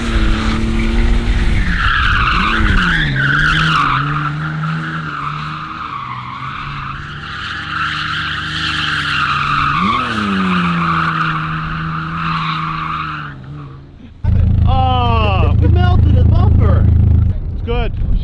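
Two 1.9L BMW Z3s drift, their tires squealing in long wavering wails over engine drone. The pitch of the squeal rises and falls, and a harsher burst of skidding comes near the end.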